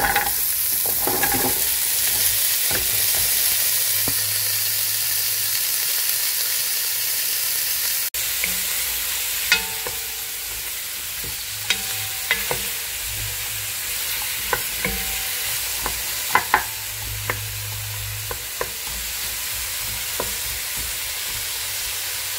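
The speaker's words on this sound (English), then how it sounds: "So I've cut the onions and the carrots, and I'm just going to fry that in some olive oil." Onions and carrots fry in olive oil with a steady, close sizzle and hiss throughout, broken by occasional sharp clicks and scrapes of stirring.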